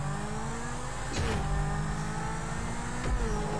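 Car engine in GTA V Online revving up for a turbo start, a steady loud game-engine drone broken by two sharp throttle blips, each surging and dropping back before the car pulls away.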